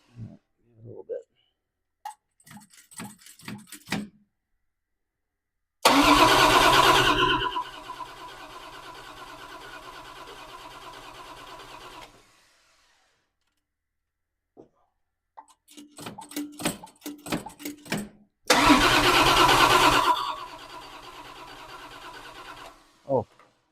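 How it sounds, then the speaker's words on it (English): A Plymouth Duster with a Slant 6 engine is cranked twice. Each time a loud, rough burst of the engine starting is followed by several seconds of idling, with people talking between the attempts. "let's just start it up without any pumps"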